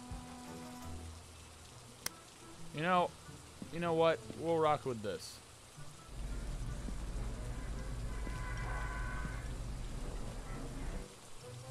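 Steady rain falls in a horror video game, a dense hiss that starts partway through and continues to the end. A person talks over a quiet start before the rain comes in.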